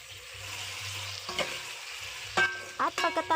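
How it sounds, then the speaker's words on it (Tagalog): Pinakbet vegetables with oyster sauce sizzle in a pan as a utensil stirs and scrapes them, with a steady frying hiss and several clattering knocks toward the end. "At pagkatapos po ay haluin po natin."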